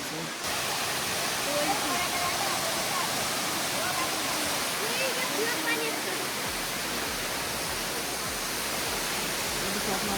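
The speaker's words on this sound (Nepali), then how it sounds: "झर्ना चाहिँ बब्बाल छ।" Purandhara Waterfalls pours in a steady, dense rush of falling water, a continuous broadband roar heard close by and outdoors, with faint voices blending into the wash.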